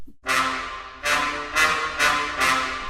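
Orchestral Tools Berlin Muted Brass playing staccatissimo, five very short, bright, punchy muted brass stabs in quick succession, each decaying briefly with room ring.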